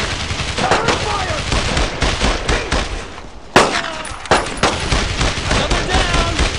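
Dense machine-gun and rifle fire crackles in a World War II shooter, Brothers in Arms: Road to Hill 30, as rapid overlapping bursts with a sharper near shot midway. Soldiers shout briefly beneath the firing.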